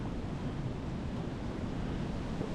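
Wind blowing across a hill trail in the Peak District near Lantern Pike, a steady broad rushing roar with microphone buffeting, close and continuous with no talking.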